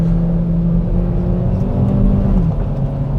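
A 2023 Kia Proceed drives on circuit roads, a steady engine drone with tyre and road roar, loud and close from inside the car, holding roughly constant pitch.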